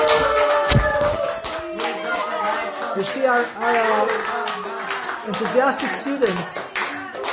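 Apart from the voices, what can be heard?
students clapping hands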